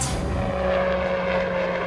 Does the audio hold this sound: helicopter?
yes